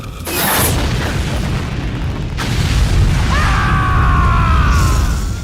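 A microbomb detonates in Metal Gear Solid 3: Snake Eater, a loud, close boom with a sharp burst at the onset and a long rumbling tail, followed by a second crack and a ringing, whistling resonance fading out.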